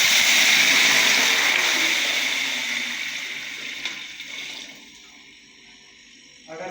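Water pours into a cooking pot for boiling rice with garam masala, black pepper, cinnamon and cloves, a loud rushing splash that gradually fades and thins over several seconds with no talk.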